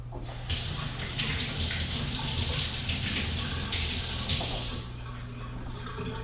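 Running tap water pours steadily over egg-covered hands being washed at a kitchen sink, a close, continuous splashing rush that cuts off near the end, leaving a low background hum.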